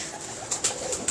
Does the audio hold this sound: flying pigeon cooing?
yes